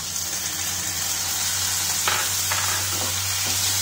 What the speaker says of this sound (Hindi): इसे पहले डालकर हम थोड़ा सा इसे टमाटर को अच्छे से इसकी प्यूरी होने तक पका लेंगे